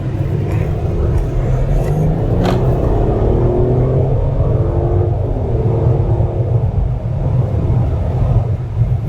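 A 2021 Mercedes-Benz S500 drives on the road in Sport Plus mode, heard from inside as a loud steady low rumble of engine and road noise with a faint whir. No one speaks.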